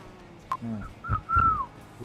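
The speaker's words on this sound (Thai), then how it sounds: "มึงผิวปากเยอะงี้เหรอ" A person whistles a few short, bright notes in a lively run, close and clear, inside a GTA city roleplay scene.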